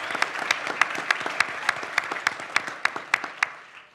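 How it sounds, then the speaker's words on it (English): A steady round of applause from an audience at a Milwaukee civic leadership event, with dense clapping and a few sharper claps standing out. The clapping is fairly distant and fades toward the end. "Give me a round of applause for that."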